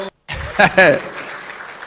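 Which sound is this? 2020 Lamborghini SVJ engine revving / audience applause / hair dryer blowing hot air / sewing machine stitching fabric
audience applause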